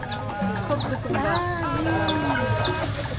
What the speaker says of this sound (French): Coq de combat.